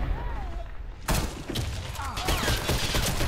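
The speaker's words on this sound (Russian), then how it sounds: "Граната пошла!" Grenade explosion amid gunfire in the online shooter Warface, during a fight over a command post. A sudden loud blast hits about a third of the way in, followed by rapid close gunshots and crackling, with game voices beneath.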